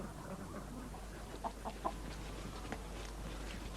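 Chickens kept in a permaculture garden cluck softly a few times, faint and somewhat distant, over a steady low outdoor hum.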